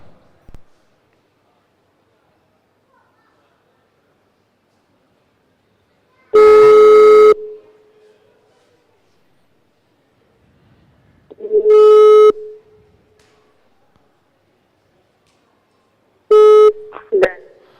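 Phone line ringback tone during a call, three loud electronic tone bursts separated by long silences, the last cut short, with faint clicks between them.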